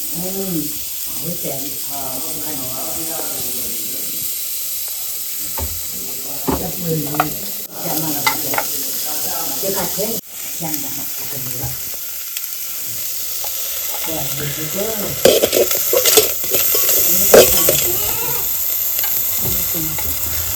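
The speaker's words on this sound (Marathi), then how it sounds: "कांदा भाजून घ्यायचा आहे आधी." Onion roasting in a pan on a wood-fired village stove, a steady close sizzle running throughout, with stirring and scraping bursts and people talking over it.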